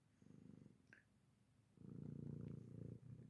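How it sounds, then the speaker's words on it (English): A cat purrs on a person's lap, soft and close, in two steady rhythmic stretches with a short pause between, a faint high tone briefly in the background. "She's purring."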